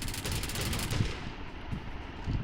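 Shotgun blasts go off in a team deathmatch of the mobile shooter BGMI, several sharp reports breaking through a steady wash of in-game noise.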